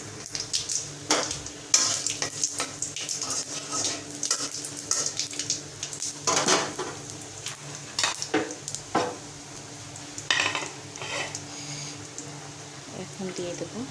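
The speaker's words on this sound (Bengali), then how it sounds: "তেলটা গরম হয়ে আসছে, দিয়ে দিচ্ছি ফোড়নের জন্য জিরা" Cumin seeds, bay leaf and dried chili sizzle in hot oil as tempering for a curry, with steady frying, spoon stirring and pan clinks close up, and talking in places.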